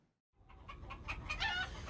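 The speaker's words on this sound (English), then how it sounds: "Will somebody shut those fucking chickens up?" Chickens clucking in a short burst of overlapping calls, rising out of near silence and building to a busy, moderately loud cluster.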